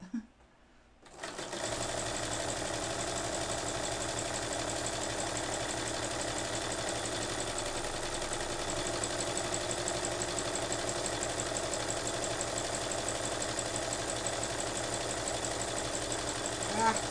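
A home sewing machine runs a continuous zigzag stitch for sewing-machine calligraphy embroidery, a close, steady mechanical whir that starts after a brief pause and holds unbroken to the end.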